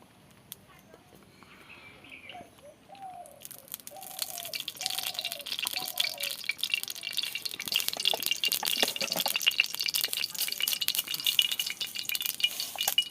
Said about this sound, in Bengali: কড়াইতে দিচ্ছি সরষের তেল